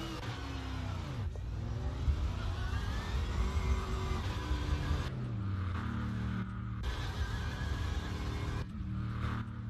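Racing car engine in the sim game Assetto Corsa roars continuously and close, revving up and down through gear changes with sharp drops in pitch, alone without talk.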